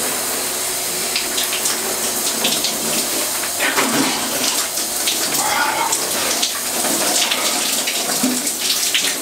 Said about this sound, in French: Maintenant, c'est l'heure de la douche.